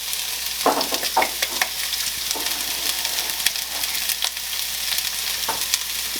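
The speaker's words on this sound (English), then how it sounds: "we are going to stir fry this for about 2 minutes" Peppers and garlic stir-frying in a hot pan for a chicken chow mein, a steady sizzle broken by scrapes and stirs at irregular moments, close and fairly loud with no talking.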